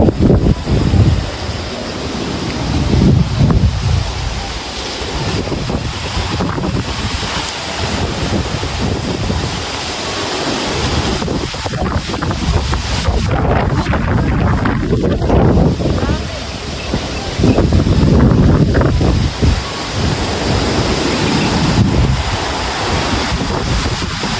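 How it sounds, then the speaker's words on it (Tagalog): Strong typhoon wind roars and buffets the microphone continuously, with gusts rising and falling and brief voices underneath. "Oh, lakas ng hangin. Bagyo."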